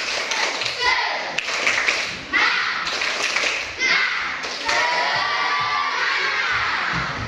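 A classroom of children doing a spirit clap routine, rhythmic group clapping in bursts mixed with children's shouting and chanting voices, loud and close.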